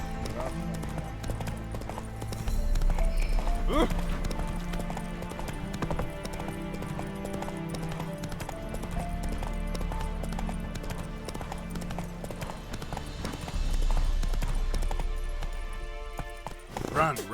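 Hooves of Roach, a horse in The Witcher 3, clip-clop in a steady galloping rhythm through much of the stretch, mixed with game music and effects, with a rider's voice breaking in now and then.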